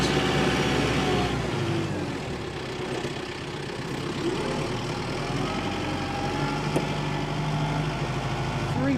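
A 2022 Kubota M7060D tractor engine runs steadily nearby, a constant low diesel rumble with a smooth, even drone throughout.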